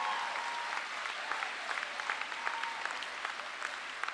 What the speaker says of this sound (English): Because you didn't really give me a good hand of applause.